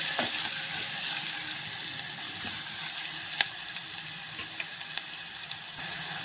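Onions sizzle and fry in oil in a pan while a bitter gourd curry is cooked, a steady soft crackle with occasional sharper pops and light stirring.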